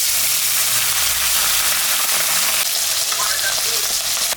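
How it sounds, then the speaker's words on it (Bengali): Fish seasoned with salt and turmeric frying in hot mustard oil in a wok, a loud, dense, continuous sizzle close up, no talking. "মাছটা এখন আমি ভাজবো। তেল গরম হয়ে গেছে।"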